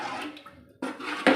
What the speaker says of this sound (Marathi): परत अर्धा ग्लास पाणी टाकून घेते